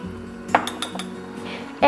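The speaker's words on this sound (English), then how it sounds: "we're going to mix in our Pomona's pectin and stevia slowly." A spoon stirring pectin powder and stevia into a pot of boiling fruit for preserves, with a few light clinks and scrapes against the pot over a low bubbling background.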